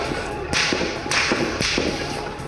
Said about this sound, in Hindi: म्यांमार में चली गोली की यह आवाज सुने।